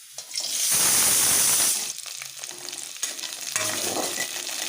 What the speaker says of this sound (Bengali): এবার একটু ভালো করে সতে করে নেবো